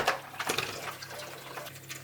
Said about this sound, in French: Un peu d'huile d'olive.